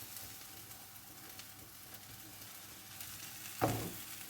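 Frittata egg mixture cooks in a pan, a steady soft sizzle and hiss close up, with a brief thump and louder fry burst as the eggs are pressed down near the end.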